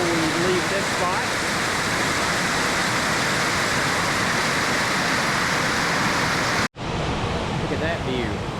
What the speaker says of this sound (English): that's another shot of Husky Branch Falls before we leave this spot